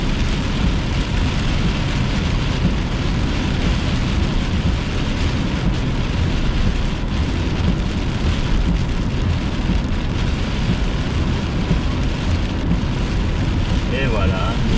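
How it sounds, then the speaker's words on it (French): Heavy rain drums on a car during a thunderstorm tornado chase, a dense, steady broadband roar that holds for the whole stretch with no clear breaks. "nous ressortons doucement de la pluie"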